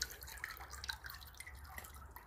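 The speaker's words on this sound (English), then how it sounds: "Everything still bubbling." Small fizzing bubbles and drips of water rising around the roots of a dragon fruit tree soaking in water, a faint, irregular patter of tiny pops over a low background hum.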